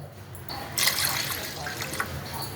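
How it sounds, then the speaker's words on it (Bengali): A glass of water poured into fried golden mung dal, a steady liquid splash and trickle that swells after a brief pause and runs on, close and moderately loud. "আর একটু জল দেবো, আমি আরও 1 গ্লাস জল দেবো।"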